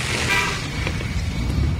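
Car horns toot over rumbling traffic on a congested street, with a brief horn blast early on and steady road noise beneath.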